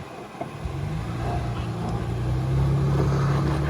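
Off-road vehicle engine droning steadily and building slightly louder as the truck works to climb a rear tire onto a rock ledge on a trail, loud and close throughout.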